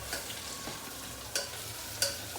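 Onions frying in a home kitchen pan sizzle steadily while a spatula stirs them, with a few sharp scraping knocks against the pan, close up and with no talk.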